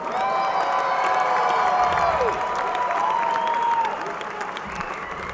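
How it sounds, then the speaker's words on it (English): A large crowd applauds and cheers for the troops at an evening event, a loud, dense wash of clapping with whoops and held tones, steady for about four seconds before easing slightly. "let's hear a big round of applause for our troops tonight, ladies and gentlemen"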